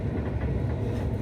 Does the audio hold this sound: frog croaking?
no